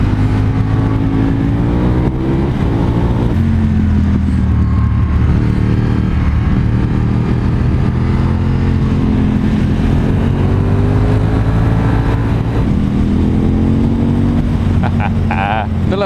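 Royal Enfield motorcycle cruising on an open road, its engine a steady close drone with slight pitch shifts as the throttle changes, and wind rush throughout.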